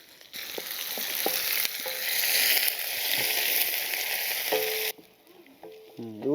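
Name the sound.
onion pieces and green chillies frying in a pan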